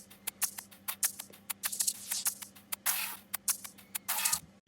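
Crisp EDM hi-hat loops tick in quick, uneven rhythmic bursts with occasional longer open hiss, fairly quiet over a faint low hum and with no talking.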